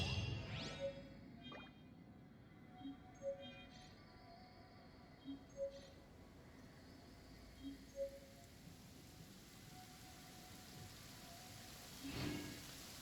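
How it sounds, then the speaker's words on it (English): Rain in the video game Genshin Impact, a faint continuous hiss of falling rain with soft periodic drips and a brief louder swell near the end. "I like the rain."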